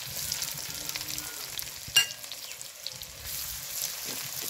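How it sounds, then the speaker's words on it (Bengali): Onion frying with cumin seeds and dried chillies in hot oil for a tempering, a steady sizzle with stirring scrapes and one sharp clack of a utensil near the middle. "তরকাটা খুব ভালোভাবে একটু নাড়াচাড়া করে ভেজে নেব"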